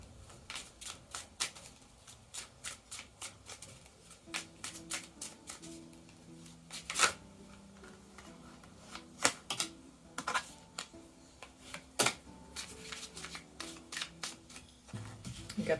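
Tarot cards are handled and drawn from the top of a deck, making quick dry snaps and flicks in irregular clusters, close and fairly faint, with a few sharper slaps as cards land.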